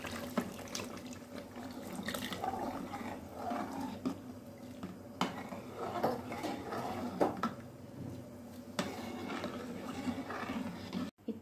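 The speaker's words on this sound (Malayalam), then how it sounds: "3-ാം പാൽ ഒഴിച്ചു കൊടുക്കാം." Thin third coconut milk is poured into a pot of green gram payasam, a long, uneven liquid stream with clinks of a utensil, faint background voices and a dog somewhere nearby.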